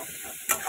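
Fish frying in a pan with turmeric and salt, a steady close hiss of hot oil with a brief louder spatter burst near the end, no voices.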